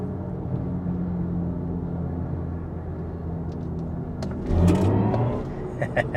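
A 2023 BMW i4 M50 electric car accelerates with a steady low rumble that swells into a brief whirring surge near the end, smooth and futuristic in tone.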